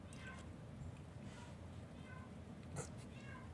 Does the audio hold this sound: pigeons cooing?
no